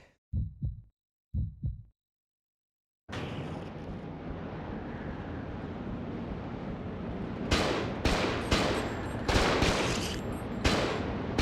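Gunfire from the survival horror game Cold Fear: after two soft thuds and a brief silence, a steady rumbling backdrop gives way to several loud, sharp shots, some in quick bursts, close and prominent.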